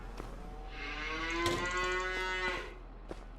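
A single cow in a new barn in a farming video game gives a clean, sustained moo that swells and then fades over about two seconds, against a quiet background with a few faint clicks.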